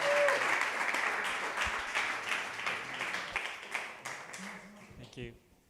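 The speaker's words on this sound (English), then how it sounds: "Big applause for Makoto from ENS." Audience applause for a speaker at an ETHRome talk, a steady fairly quiet round of clapping that gradually thins and fades out over about five seconds, with a voice heard faintly near the end.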